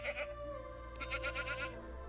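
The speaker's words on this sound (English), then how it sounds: "Yep, 2 goats." Goats in the farming video game Preserve give a few short bleats, moderately close and clear, with a soft game background beneath them.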